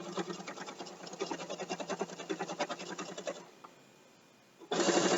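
A sewing machine stitches quilt binding with black thread in a fast, steady mechanical rhythm, running for several seconds, pausing into near quiet, then starting again loudly and close.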